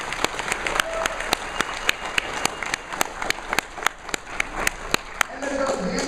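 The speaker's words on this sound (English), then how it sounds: "Let's give them a big round of applause and raise the money." Applause from a crowd at the opening ceremony of a 2016 event, with loud, sharp individual claps standing out over a broad wash of clapping and crowd noise.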